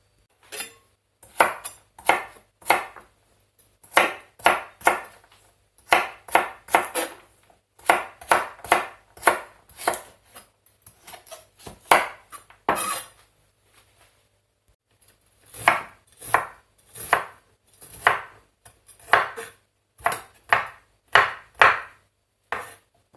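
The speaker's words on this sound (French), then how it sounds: "je vais couper tout ça en petits morceaux" Knife chopping vegetables into small pieces for an Asian soup, quick bursts of sharp taps on a cutting board in rhythmic runs, close and clear, with short pauses between the runs.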